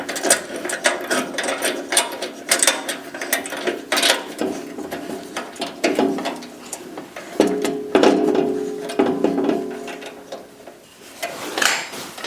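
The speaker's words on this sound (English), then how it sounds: "We're just going to screw them in a couple of threads." Bolts being threaded in by hand on an Ariens snow blower during assembly, a steady run of close, loud clicking and ratcheting mechanical sounds that continues for several seconds with no talking.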